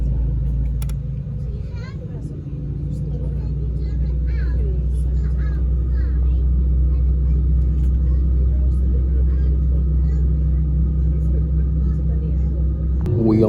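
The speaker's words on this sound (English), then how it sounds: "I can hear those engines revving." Jet engines of an airliner rev up and build in a deep, continuous roar heard from inside the cabin before takeoff, with faint voices and someone speaking underneath.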